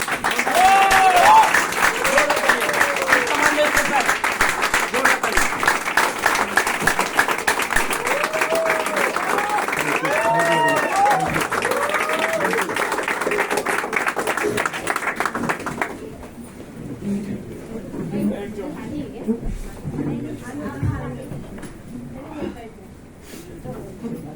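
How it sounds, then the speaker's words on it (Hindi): An audience at a marketing plan seminar applauds loudly and densely for about fifteen seconds, then the clapping cuts off and a quieter stretch of scattered noise and murmur follows. "तो मैं आपके बीच में एक जोरदार तालियों से बुलाना चाहूंगा मिस्टर पवन दांगी जी।"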